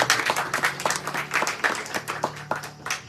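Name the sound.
audience round of applause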